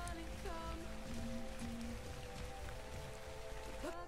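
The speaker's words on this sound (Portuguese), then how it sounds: "maravilha, chovendo" Rain falling in the survival game ARK, a steady hiss of drops on surfaces under scattered tonal game sounds and creature calls.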